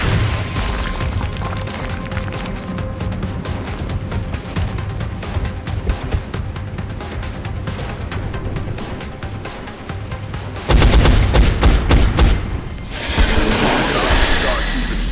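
Gunfire and explosions in XCOM: Enemy Unknown, a dense, loud barrage of shots and rumbling blasts that builds into a heavier crashing burst near the end, with no voices over it.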